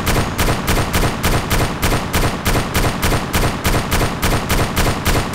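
Rapid automatic gunfire in the video game Arma 2, aimed at a helicopter overhead, a loud, steady stream of evenly spaced shots pounding without a break.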